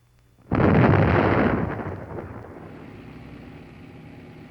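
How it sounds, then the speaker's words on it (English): A Bangalore torpedo detonates to breach a minefield in a 1954 military film: one sudden heavy blast, then a long rumbling decay that fades over several seconds. "When it explodes, it clears a path several hundred feet long and wide enough for tanks."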